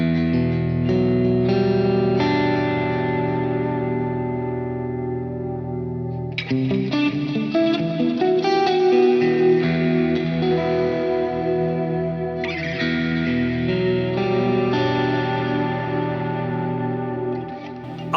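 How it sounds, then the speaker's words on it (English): Electric guitar played through the Hall of Fame 2 reverb on a TC Electronic Plethora X3 effects pedal, chords ringing out with long washy tails and shimmering echoes, loud and close, no voices. "the Hall of Fame reverb, and this is the Hall of Fame 2, is an awesome reverb"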